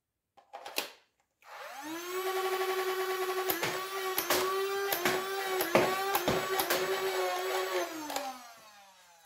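Electric motor of a battery-powered foam dart blaster spinning up and whirring steadily for several seconds while darts fire in quick sharp bursts, then winding down, close and moderately loud.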